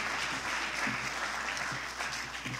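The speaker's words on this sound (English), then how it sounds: "Let's give a round of applause to Erica Knowles from Newark Now." Audience applause at a screening reception at the Newark Museum, a continuous fairly faint clapping texture with scattered murmuring voices in the room.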